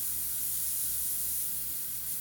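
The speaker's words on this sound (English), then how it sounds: "I'm just letting the airbrush wiggle around and create the shapes for me" Steady, even hiss of an airbrush spraying paint onto a painting of trees, continuous and close with no pauses or talk.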